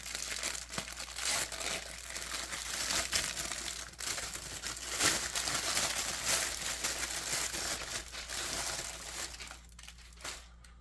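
Plastic bag crinkling and crumpling as a Power Rangers Snizzard action figure is pulled free of its packaging, a steady, close rustle throughout that thins out near the end.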